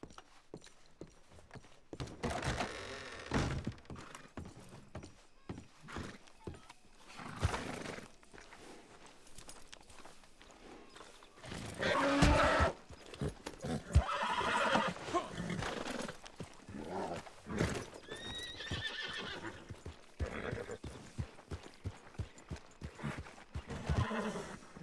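In a Western roleplay video game, a horse whinnies and snorts while hooves clip-clop over ground, a busy continuous mix of animal calls and footsteps with louder neighing bursts in the middle and no talk.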